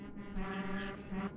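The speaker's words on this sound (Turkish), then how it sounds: "Bak bende 2 tane korna çalıyor görüyor musunuz?" A truck horn in the Euro Truck Simulator 2 driving game blares as a steady, low, sustained tone that fills the whole short moment. It is loud and close, with no talking over it.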